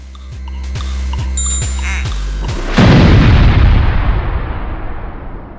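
A big cinematic explosion effect hits after a few seconds of pulsing low electronic beats, a loud deep boom that rolls out and fades into a long rumbling tail.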